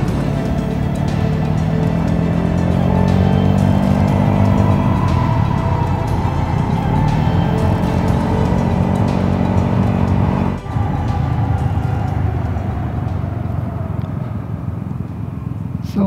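A Vespa GTS 300 hpe scooter fitted with Tech Pulley sliders rides along a shaded road. Its engine drones steadily and loudly with a constant tonal hum and wind rush, dipping briefly midway, with no speech.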